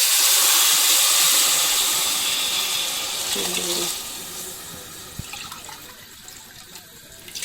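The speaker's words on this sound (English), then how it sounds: "I'm going to add 4 cups of water." Water pours steadily into a cooking pot of aloo gobi with a broad rushing hiss, loud at first and then settling into a softer trickle and splash.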